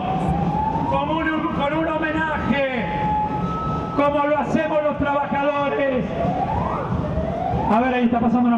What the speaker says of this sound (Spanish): ahí está pasando una ambulancia